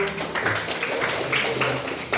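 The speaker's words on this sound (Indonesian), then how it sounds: "Kasih tepuk tangan untuk Alif dulu" A classroom of pupils clapping hands for a classmate named Alif, a steady close patter of many small claps filling the short moment with faint voices mixed in.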